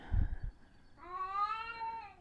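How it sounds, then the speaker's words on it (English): A cat gives a long, drawn-out, wavering meow at close range, following a few low thumps, with nothing else in the background. "And here's my cat."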